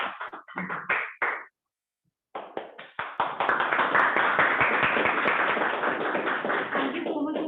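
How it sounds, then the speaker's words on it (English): A room of attendees at a Toastmasters club meeting breaks into applause. Scattered claps come first, then a short pause, and then a dense, sustained round of clapping builds and holds steady at moderate loudness with no voices. "please give a round of applause to Toastmaster Digant, Toastmaster Rashmi, Toastmaster Ritvik, and Toastmaster Arpit"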